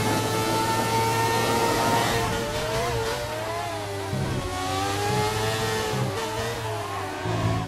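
An F1 2019 racing car engine revs hard on a qualifying lap in the video game, whining high and climbing through gears with short dips at the shifts, loud and close.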